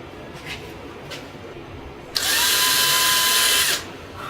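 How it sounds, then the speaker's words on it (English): A power drill drills out screw holes in a wooden cabinet while decorative hinges are fitted. After quiet handling sounds, it runs as a single loud, close whir for about a second and a half, then stops. "I'm just going to drill a couple of these out."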